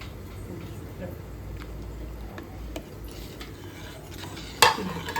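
Metal spoon stirring and clinking in a cooking pan of brinjal and fenugreek leaf palya, a steady scraping stir with a sharper clang near the end, over faint sizzling and background talk.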